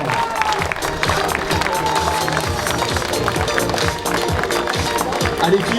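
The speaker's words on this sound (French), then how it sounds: "On peut les applaudir bien fort." At a triathlon award ceremony, an audience applauds with dense, continuous clapping under a speaking voice, steady and close for several seconds.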